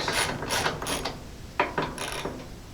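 Ratchet wrench clicking as it starts rusty T40 Torx bolts on a junkyard Jeep YJ, in a few short bursts of close, crisp mechanical ticking with brief pauses between.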